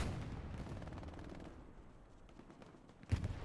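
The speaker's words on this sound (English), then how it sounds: "Bob gets him in the back with the shotgun." A single loud shotgun blast near the end of a team-based tactical shooter match, preceded by a low rumble of distant gunfire and game ambience.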